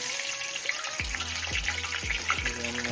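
Chicken patty for a Zinger-style burger frying in hot oil, a steady close crackling sizzle with popping bursts and soft low thumps recurring about every half second.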